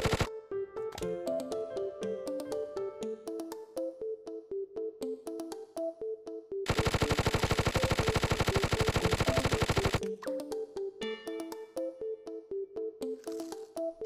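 Rapid rhythmic pea-shooter fire from the scorpion-tail gel gatling pea in Plants vs. Zombies 2, a steady stream of quick pops over looping game music, broken midway by a dense burst of rapid-fire shots lasting a few seconds.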